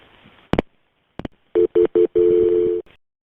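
Telephone dialing during an emergency call to police: a few sharp clicks, then three short keypad beeps and a longer sustained tone, close and clear with no talking.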